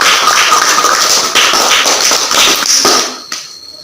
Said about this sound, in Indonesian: Kita kasih aplaus buat teman kita yang sudah.